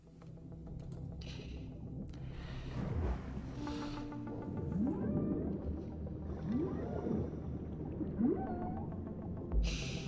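Dolphin calls in the underwater video game Dave the Diver, a series of rising whistles and chirps over a murky watery ambience with a low rumbling bed, moderately loud and repeating several times.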